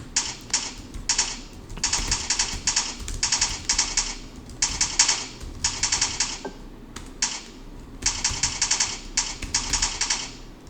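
Bursts of rapid typing on a computer keyboard during an online English lesson, clicking in steady clusters separated by short pauses, close and clear with no talking.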